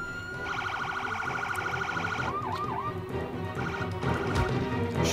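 A police car siren in the SimCity video game gives a short wailing sweep amid a dense bed of city ambience and steady electronic alarm tones.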